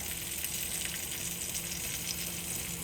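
Cream and vegetables simmer in a pan, giving a steady bright bubbling sizzle with a soft hiss that holds evenly throughout, with no talking.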